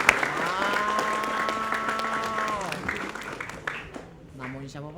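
Applause in a school setting with teachers of a junior high school in Palembang, a steady round of clapping under talk and a sustained tone, fading out after about three seconds.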